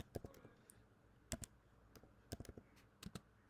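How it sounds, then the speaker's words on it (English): Quiet keys tap on a computer keyboard as a search term is typed, in short clusters of crisp clicks separated by brief pauses, close and faint with no talking. "here on the search you just type Microsoft"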